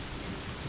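Thunder rumbles low beneath steady, dense rainfall in the survival video game The Forest, the storm loud and continuous with no voices over it.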